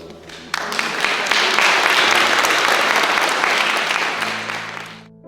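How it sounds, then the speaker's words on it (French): Wedding guests at a church ceremony applauding the couple's kiss, a full, even burst of crowd clapping that starts abruptly, holds for about four seconds and fades, with a sustained organ-like tone underneath. "Je demande à Christopher d'embrasser son épouse et nous les applaudissons"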